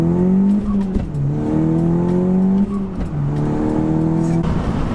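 A stage 2 Audi S3 accelerates hard on a drag run, heard from inside with a loud droning engine note that climbs in pitch through the gears, with short dips at each of several quick upshifts.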